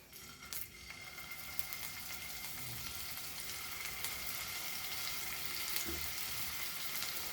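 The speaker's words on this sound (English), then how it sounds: "the oil is hot and we will just fry this shallow fry." Goan beef meatballs shallow frying in hot oil, a steady broadband sizzle that runs continuously and close up, with a few faint clinks or stirs in the pan and no voices.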